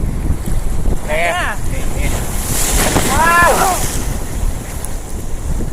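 Sea waves and strong wind roar steadily around a boat off Koh Samed, loud and close, while a man briefly exclaims in Thai and voices call out over the noise.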